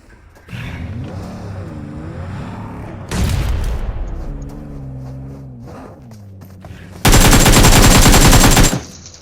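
Bursts of automatic gunfire ring out in PUBG on the Miramar map: a dense loud volley at about three seconds, a wavering vehicle engine in between, then a long, very loud sustained burst near the end.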